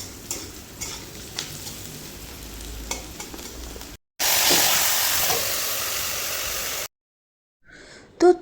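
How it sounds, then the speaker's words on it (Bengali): Onions frying in oil for biryani beresta, a close sizzle broken by utensil clinks and stirring, then a louder burst of hissing frying before the sound cuts off and ends with a short clatter. "একটু এখন বেরেস্তা ভাজছি।"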